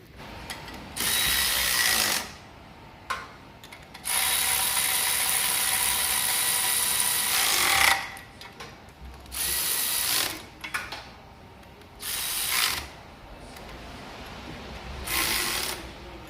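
A socket ratchet does up exhaust bolts under a car, with long bursts of rapid ratcheting clicks alternating with pauses, close and fairly loud, no talking.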